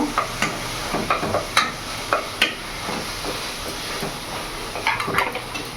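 Fried masala in oil for a pangas fish curry being stirred, a gentle sizzle broken by sharp spatula scrapes and knocks at irregular intervals, close up and without voices.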